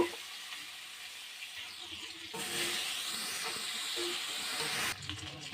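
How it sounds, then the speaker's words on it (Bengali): Potatoes and pointed gourd fry in a pan of oil tempered with nigella seeds, making a hissing sizzle that suddenly swells louder partway through, then cuts back near the end; close, with no speech. "এবারে এখানে কালো জিরে ফোড়ন দিলে আলু পটল ভেজে নেব।"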